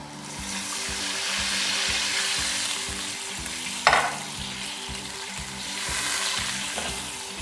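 Water poured into a hot frying pan during mushroom fried rice preparation, with steady loud sizzling and a brief sharp hiss burst midway, no talking.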